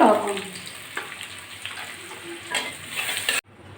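Onion fries in oil in a pan with a loud sizzle at first that settles into a steady hiss with stirring scrapes, then cuts off abruptly near the end.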